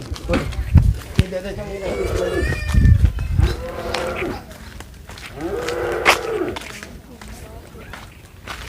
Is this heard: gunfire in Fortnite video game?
no